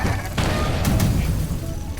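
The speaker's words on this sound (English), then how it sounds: "That's a lot of missiles." Missiles strike a ship in the video game FTL as a dense, loud rumbling barrage of booms and blasts packed into two seconds.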